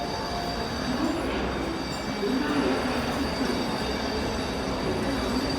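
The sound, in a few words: MTR train slowly leaving Sha Tin Station platform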